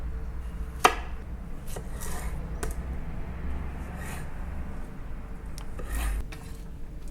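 A cucumber being cut with a knife on a board for a sushi roll, a few sharp separate chops and scrapes over a low background hum, with no talk.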